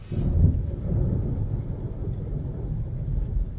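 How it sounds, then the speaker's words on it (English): Loud thunder rolls as a deep, continuous rumble that swells early and then keeps grumbling steadily without a break, with no voices over it. "that was some loud thunder."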